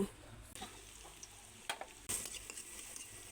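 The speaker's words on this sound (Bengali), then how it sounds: "তুলে নিয়েছি, তেলেই পেঁয়াজ কুচি দিয়ে দিব।" Chopped onions fry in oil left over from frying fish kofta, a faint soft sizzle broken by a few sharp stirring clicks and scrapes in a quiet kitchen.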